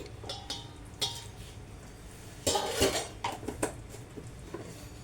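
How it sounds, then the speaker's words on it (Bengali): A metal lid comes off a pot of chicken rezala after an hour of resting, with a few sharp clinks and clatters of metal on metal over a quiet kitchen background. "1 ঘন্টা পর ঢাকা খুলছি"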